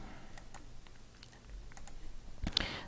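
Faint computer mouse clicks while working in CorelDraw: a handful of soft, scattered ticks in a quiet room, ending with a slightly louder cluster of clicks.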